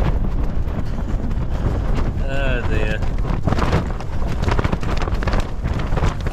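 Strong, gusty wind buffets the microphone at a winter mountain campsite in the Lake District, a constant roaring rumble with brief clattering and a short whistling tone partway through, close and loud.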